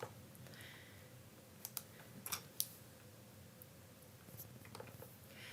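Soft clicks of typing on a computer keyboard during spreadsheet data entry, faint and sparse, in a few short clusters against a quiet background hum.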